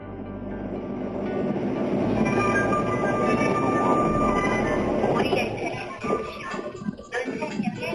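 Steady rumble of a train ride departing Nonsan station, with rolling wheel noise and carriage vibration throughout, growing more uneven toward the end.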